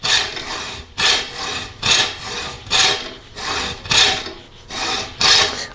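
A tool rasps back and forth across the riser of an Osage orange selfbow, cutting in an arrow shelf. About seven even, scratchy strokes come in a steady rhythm, close up, with no talking.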